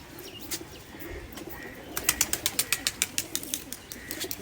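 Soft low coos from a Kamagar pigeon sound close by, joined midway by a quick run of sharp rhythmic pulses, with no talking.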